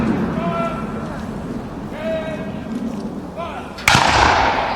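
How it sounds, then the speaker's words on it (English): Musket volley fired by rank at an English Civil War reenactment, one loud sharp crack near the end after steady outdoor crowd ambience with someone speaking throughout. "the next rank is ready to fire. This is firing by rank while gaining ground."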